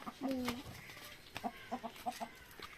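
A chicken clucks in short, soft bursts, with a brief higher call at the start; quiet and fairly close.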